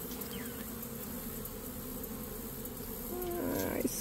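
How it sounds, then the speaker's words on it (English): A steady, close drone of many honeybees buzzing together around a hive, with individual higher whines passing by now and then. "All the bees are around her."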